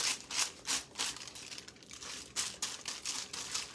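Embossed hair foils from Quality Touch crinkle close by in short, papery bursts, rising and falling in irregular pulses at a soft level.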